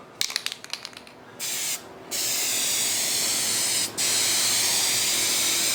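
A spray paint can hisses out light coats onto a 1985 Toyota SR5 pickup, close and steady. A few quick rattles and clicks come first, then two short bursts and one long sustained spray with a brief break.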